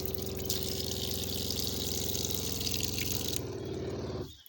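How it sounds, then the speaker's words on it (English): An electric water pump in a camper van runs with a steady, whining hum over water flowing from a tap, fairly close and constant, then the flow stops and the pump winds down to silence at the end. "Pump goes on, pump goes off, just like you need it to."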